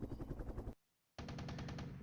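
Helicopter cannon fire in the Flashpoint Campaigns Cold War wargame, loud rapid bursts of automatic shots broken by a brief silent gap before a second sustained burst, with no talk over it.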